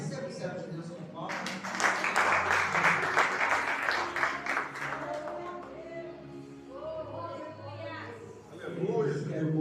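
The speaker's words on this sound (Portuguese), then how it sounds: "Receba o servo de Deus com palmas." A church congregation breaks into applause welcoming a preacher, a dense burst of clapping that builds and holds for several seconds before thinning out, with voices calling and a speaker's voice rising over the tail.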